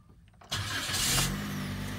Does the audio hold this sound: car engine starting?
yes